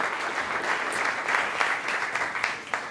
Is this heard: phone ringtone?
no